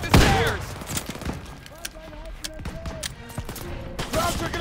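Gunfire from a Call of Duty WWII campaign battle: a loud opening shot, then scattered bursts and repeated weapon reports, with game voices and combat noise layered over them.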